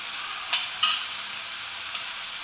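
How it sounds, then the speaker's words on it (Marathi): Chopped tomatoes for chole sauté in a hot pan with a soft, even sizzle, broken by two or three brief spatula scrapes; close and fairly quiet, with no voices. "त्यामुळं टोमॅटो व्यवस्थित परतून घ्या."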